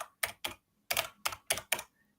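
Computer keyboard being typed on, giving a sparse, quiet sequence of about seven crisp keystrokes, clustered with short pauses, close up and with no other sound around them.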